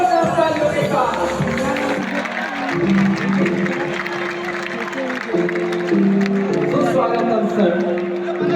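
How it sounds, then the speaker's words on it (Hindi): Loud, sustained applause from a seminar audience in an auditorium in Patna, welcoming a speaker, with a tonal voice or music running over the dense clapping throughout. "कीजिए जोरदार तालियों के साथ।"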